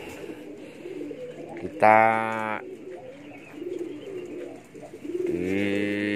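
Blusur racing pigeons at a loft in the early morning give two loud, close, throaty coos, one short and one at the end, over quiet background and someone speaking softly.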